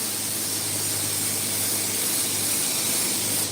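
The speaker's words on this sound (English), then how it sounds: "And I'm spraying at about 75 PSI" Spray gun applying bedliner to the inner fender of a 1963 Impala at about 75 PSI, producing a loud, steady, continuous hiss that holds for the whole stretch without pause.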